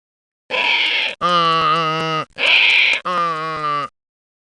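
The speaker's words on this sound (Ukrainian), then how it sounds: "Звісно, це віслюк." A donkey brays in four loud, drawn-out honking segments, alternating harsh inhaled and tonal exhaled notes, close and alone.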